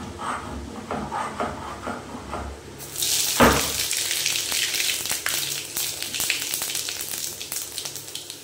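Panch phoron, a five-spice mix, dropped into hot oil for a bottle gourd and mung dal dish; quiet crackling first, then a sudden loud burst of sizzling that keeps hissing and spattering close up.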